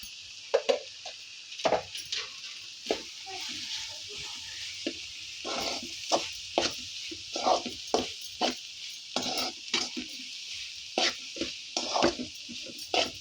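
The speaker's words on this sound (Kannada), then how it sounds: "ಎಲ್ಲ ಚೆನ್ನಾಗಿ ಫ್ರೈ ಮಾಡ್ಕೊಳ್ಳೋಣ" Spiced momo filling fries in a pan with garam masala and chili powder, a steady sizzle under repeated scraping and clattering stirs from a spoon, close and fairly loud, no talk.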